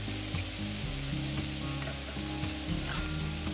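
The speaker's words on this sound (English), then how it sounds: "Since I have a small pan, I'm going to be cooking the beef in batches." Beef pieces searing in a small pan with oil and butter, making a continuous crackling sizzle at moderate level, with light clicks at intervals and music playing underneath.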